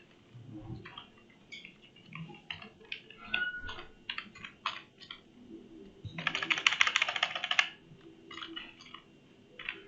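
A username and password typed on a computer keyboard, heard as irregular bursts of close keystrokes with short pauses between them and one denser, faster run of typing near the middle.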